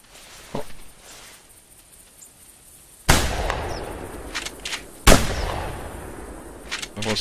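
Two loud, sharp gunshots ring out in theHunter Classic during a goose hunt, each one cracking sharply and then fading into a rolling tail, with a faint pop heard earlier in the stretch.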